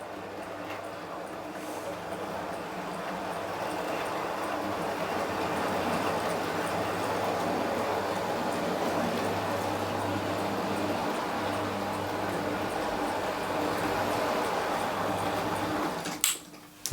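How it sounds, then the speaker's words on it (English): A little model locomotive hauls six coaches up a grade, giving a steady, continuous mechanical running hum with a low drone, close by and nearly even in loudness until a brief clatter at the very end. "That's 6 coaches on the back of this little locomotive, and she's hauling them up this grade without a hitch, not a wheel spin in sight."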